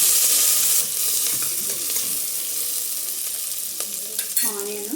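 Onion and green chillies frying in a pan while cooking tomato paneer pulao, giving a loud, steady sizzle close by, with a few soft stirring scrapes toward the end.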